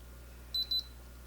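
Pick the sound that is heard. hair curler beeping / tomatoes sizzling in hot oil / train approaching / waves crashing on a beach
hair curler beeping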